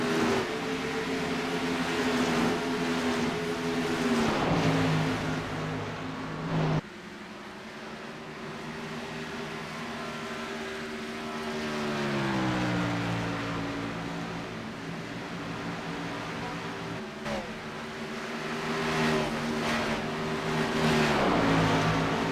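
Xfinity Series race cars lap Dover under green, their engines a loud, continuous roar that swells and fades as the pack sweeps past, with pitch shifts as cars go by.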